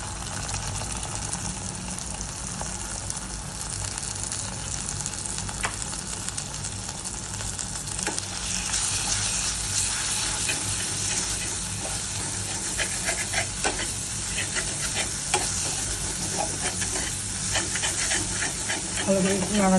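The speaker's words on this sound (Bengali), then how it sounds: "অল্প একটু তেল দিলাম। আদা জিঞ্জার পেস্ট দিচ্ছি।" A little hot oil with ginger paste, cooking for an okra dish, hisses steadily for a long stretch while being stirred, with intermittent scraping and faint voices in the background.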